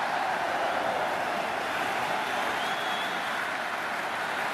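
Steady crowd applause and cheering from a stadium in the Cricket 26 video game, a dense continuous wash of clapping that holds at an even level throughout with no voices standing out.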